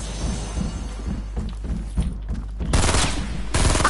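Gunfire in a shooter video game: a run of distant, muffled shots in an irregular rhythm, then two louder, denser bursts of fire close by in the final second and a half.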